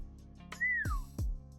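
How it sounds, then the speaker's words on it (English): A person whistles a single rising-then-falling note close by, set between two sharp low thumps, with no talking. "I had to whistle, I'm sorry."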